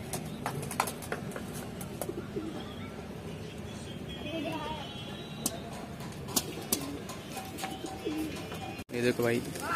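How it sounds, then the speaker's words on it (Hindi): Pigeons coo and flutter at a bird seller's stall in Ghatkopar, Mumbai, where white Madrasi and Punjabi breeds are offered for sale. The soft, steady cooing runs under continuous talk and nearby background noise. "ये देखो भाई, ये बेदाग कबूतर है मुंडा, वाइट में है"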